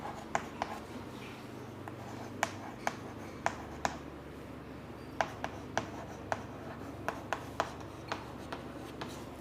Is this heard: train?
no